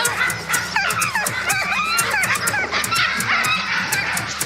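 A pack of sled dogs barks, yelps and howls together outdoors, a dense chorus of overlapping cries that continues without pause.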